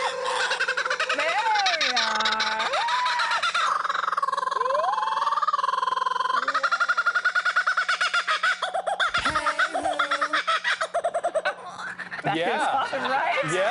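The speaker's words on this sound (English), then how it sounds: "what are these guys known for as a laughing kookaburra" Laughing kookaburras at a SeaWorld animal display call up close with a loud, rising and falling cackling chorus. The birds keep going throughout, and people talk and laugh over them.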